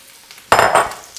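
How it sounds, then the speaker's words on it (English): Yellow squash hits a scorching hot pan and bursts into a loud, sudden sizzle that swells briefly, then settles into a steady frying hiss, close and alone with faint utensil clinks. "you heard those sizzle the moment they hit the pan"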